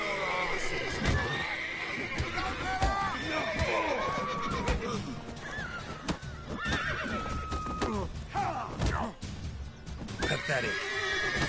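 Horses in The Witcher video game neigh and whinny repeatedly over clip-clopping hooves, loud and near, while a person talks intermittently over the scene.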